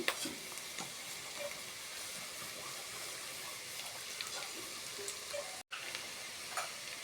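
Onions soften in a pan over low heat for a curry, keeping up a steady, faint crackling sizzle with scattered small pops. The sizzle breaks off briefly once before carrying on.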